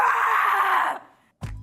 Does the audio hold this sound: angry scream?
yes